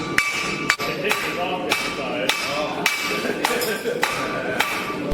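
A blacksmith strikes hot metal with a domed-face hammer on a flat anvil during a forging heat challenge, about ten sharp ringing blows at a steady, close rhythm, each leaving a brief metallic ring.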